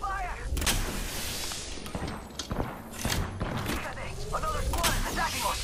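Gunfire and thumping impacts in a squad-based battle royale shooter, scattered sharp shots and booms over a busy game soundscape, with a person talking intermittently throughout.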